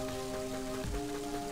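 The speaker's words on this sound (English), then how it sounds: "Brr, that's cold rain." Steady cold rain patters on surfaces in the Mother 3 video game, a dense even hiss running throughout with a faint game music drone beneath and a brief low thud near the middle.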